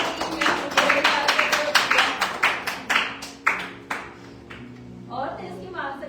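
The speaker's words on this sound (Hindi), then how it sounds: "जोरदार तालियां देने के लिए" A congregation at a Sunday church service gives a loud round of applause: many hands clapping in strong bursts that thin out and fade, with a voice rising near the end.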